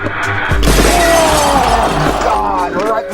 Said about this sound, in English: Right through the glass window with Dustin's head again.